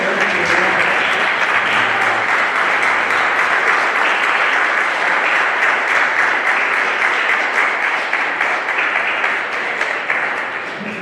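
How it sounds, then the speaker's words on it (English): A banquet audience at a football awards dinner gives a standing ovation, with loud, dense applause sustained throughout and only a slight fade near the end, close and enveloping. "would hate for us to give her a standing ovation, but we're going to do it anyway"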